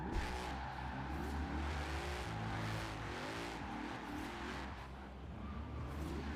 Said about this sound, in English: just so you can really hear the exhaust